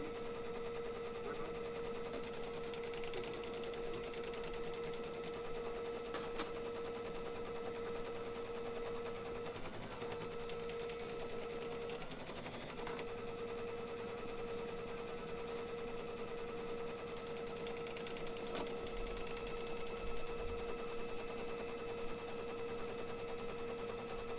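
A sewing machine stitches fabric down in a steady, faint, continuous run, quietly droning throughout with a constant high whine and no talk.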